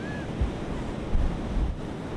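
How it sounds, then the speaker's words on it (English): Powerful ocean surf pounds a beach during very large waves, a continuous heavy roar with low rumbling crashes, mixed with wind buffeting the microphone and no voices. "It is really cool to see just how powerful the friggin' ocean gets."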